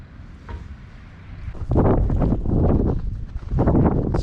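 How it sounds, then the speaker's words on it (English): Gusts of wind buffet the microphone of a GoPro Hero 8 Black, starting as a light rumble and then hitting in heavy, close-up bursts of low roaring buffeting that rise and fall over a few seconds. "As you can tell, there's wind."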